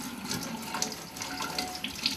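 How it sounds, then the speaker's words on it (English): Hands are rinsed under a running tap, with a steady splash of water over skin and into the sink and small shifts as the hands move through the stream. "And rinse your hands."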